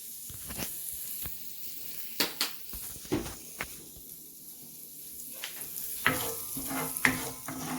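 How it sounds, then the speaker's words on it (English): Food sautés quietly in a pan, punctuated by sharp clinks and scrapes of a utensil stirring, with louder clatter toward the end. "I'm just going to saute them up a little bit."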